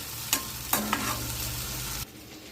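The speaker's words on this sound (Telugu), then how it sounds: "ముందండి గోంగూర వేసుకోవాలి ఈ ఆయిల్లో ఆయిల్లో బాగా నూనె తేలేంత వరకు వేపుకోవాలండి గోంగూరని" Gongura leaves fry in hot oil while being stirred, a steady sizzle punctuated by a few scraping stirs, close up and with no talk, ending abruptly.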